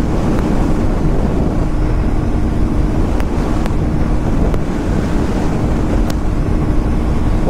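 A KTM Duke 160 motorcycle ridden at top speed in sixth gear with a pillion passenger, heard mostly as loud, constant roaring wind rush over the microphone, with the engine buried beneath it.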